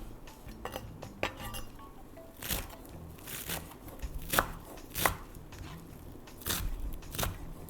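A knife chops fresh cilantro on a board while a chicken and lentil pilaf is being made. Crisp, uneven chops land close by, several in quick bursts with short pauses between them, and no one talks.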